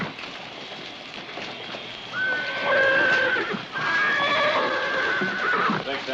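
A horse neighs loudly twice in a long whinnying call, close by, with faint hoof clatter and light background noise.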